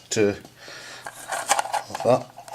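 Metal parts of a spare camping stove clink and scrape as they drop into a metal tin, a few short rattles close by, with a voice speaking between them.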